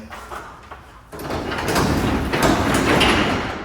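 A residential garage door rolls down its track, sticking along the door jambs, with a rising mechanical rumble and scraping that grows louder and holds steady for a few seconds.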